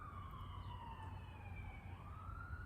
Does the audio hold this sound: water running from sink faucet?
no